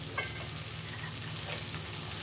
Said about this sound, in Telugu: దాన్ని బాగా మిక్స్ చేయాలి